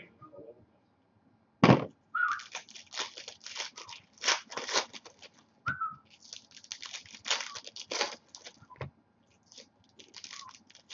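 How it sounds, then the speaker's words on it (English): A pet bird whistles in short bright bursts and chirps, scattered irregularly with brief pauses and a few sharp clicks, close and fairly clear. "I have never heard my bird whistling so much."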